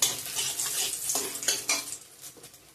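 Bay leaf and dried red chillies sizzle in hot oil in a pan for Bengali dal, a steady close frying hiss with a few stirring scrapes.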